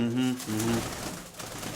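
Fancy pigeons coo nearby in a pair of low, throaty rolling calls, and a voice is heard as the calls fade.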